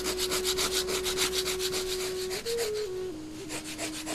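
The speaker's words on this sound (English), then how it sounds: "made by rubbing my drill on the rough surface of the sandstone" Steady rhythmic scraping of a wooden fire-bow drill rubbed against rough sandstone, fast back-and-forth strokes repeating evenly, close up, with a faint whine in the background.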